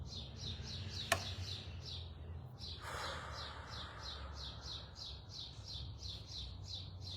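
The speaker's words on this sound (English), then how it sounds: "We're not in complete silence because there's this bird that's chirping" A small bird chirps in a fast repeating series of high bright notes throughout, moderately near in a quiet room, with one sharp click partway through and no talking.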